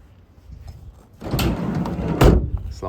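The sliding side door of a 2019 Peugeot Partner 1.6 HDi Professional van rolls along its track and shuts with a firm thud, close by in a quiet setting.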